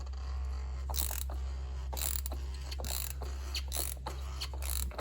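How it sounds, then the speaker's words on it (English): A 3/8 ratchet turning an oil filter removal tool on the oil filter of a Toyota Corolla, with repeated close metallic clicking strokes in an uneven rhythm over a low steady hum. "I'll just put my oil filter tool on the oil filter with the 3/8 ratchet."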